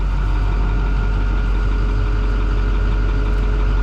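A loud, steady idling engine of a 2011 International 3200 shuttle bus rumbles close by, a deep even exhaust drone that holds without change throughout.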